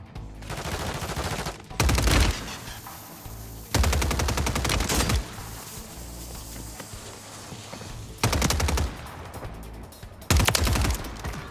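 Video-game gunfire from hip firing rattles out in four loud automatic bursts, each lasting a second or more, separated by quieter stretches of ambient game noise.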